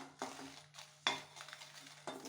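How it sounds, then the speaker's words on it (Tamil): Dry red chillies being stirred nonstop in a pan as they roast for rasam powder: a spoon scrapes and clinks against the pan in three distinct strokes over a soft, steady background hiss, close and with no talking. "மிளகாய் போட்டு கைவிடாமல் இப்படி களைச்சிட்டே இருங்க"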